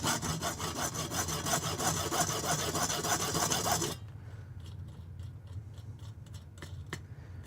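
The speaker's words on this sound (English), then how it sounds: "Remember that your hacksaw only cuts on the push stroke" A hacksaw cuts through a threaded rod in steady, close, rapid rasping strokes for about four seconds, then stops, leaving quiet room tone with a few faint clicks and taps.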